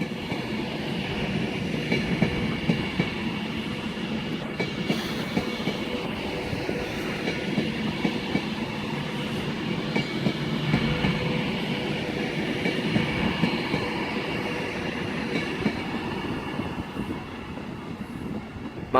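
Virgin Class 390 Pendolino electric train running through Crewe station on the West Coast Main Line: a steady rumble and rolling wheel noise for the whole stretch, fairly close, with faint clatter and no clear speech.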